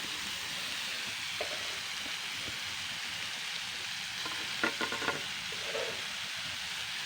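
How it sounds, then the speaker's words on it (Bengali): Grated papaya sizzling in hot oil as it is stirred gently in a pan, a constant frying hiss with a short burst of scraping stir strokes near the end, no voices. "এটাকে জাস্ট আমি 2 থেকে 3 মিনিট হালকা নাড়াচাড়া করে নেবো।"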